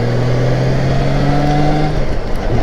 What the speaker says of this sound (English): That 6-cylinder just sounds good.